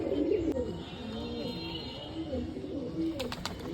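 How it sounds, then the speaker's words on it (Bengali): Pigeons cooing and calling from a flock flying in cloudy, rainy weather, with soft coos and a few brief chirps over a steady wash of background noise. "টোটাল 7 পিস পায়রা উড়ছে"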